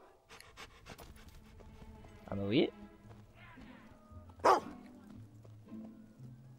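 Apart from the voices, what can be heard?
dog panting and barking in video game Fable II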